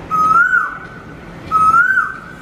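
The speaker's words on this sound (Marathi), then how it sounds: "मध्येच कुठेतरी आंब्याच्या झाडावर बसलेल्या कोकिळेचा" A koel calling from a mango tree gives two clear, rising whistled notes, each about half a second long, repeated a second apart, loud and alone against a quiet backdrop.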